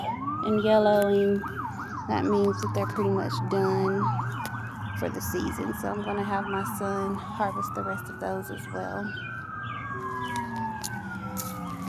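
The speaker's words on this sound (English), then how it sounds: "excuse the sirens" Emergency sirens wail and yelp in the distance, rising and falling continuously while a person talks over them.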